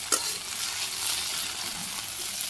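Okra frying in a pan in a Bangladeshi village kitchen, a steady close sizzle with a sharp spatula scrape near the start and soft stirring scrapes throughout, no talk.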